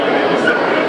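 Small white Maltese dogs at a single-breed dog show yip and bark amid a busy, noisy hall, with voices talking over them throughout.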